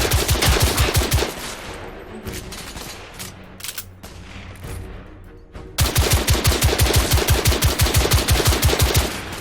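Rapid automatic gunfire from a weapon in the video game The Order: 1886, loud bursts of fast repeating shots, a quieter gap with scattered single shots, then another long sustained burst.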